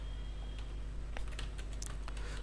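Computer keyboard typing while writing C code in a programming lab, a run of quick, irregular keystrokes close by over a steady background hum.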